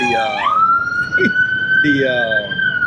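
A truck passes along a street, carrying a loud, sustained tonal wail that rises and then holds steady before fading, with people talking over it.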